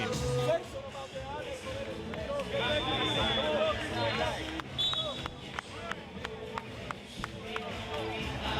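Crowd inside a basketball arena at a Basketball Champions League game, a steady murmur and babble with ball bounces and sneaker squeaks, under a commentator talking.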